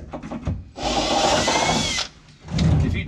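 A power drill whirs loudly for about a second, boring a hole through metal, with brief handling clatter before and after.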